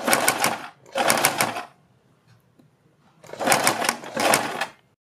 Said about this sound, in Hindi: आप इसे सुई की हेल्प से इस तरह से अंदर कर सकते हैं और फिर इसके ऊपर सिलाई लगा लें